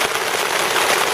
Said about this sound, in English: Yep, that's the sound of monsoon.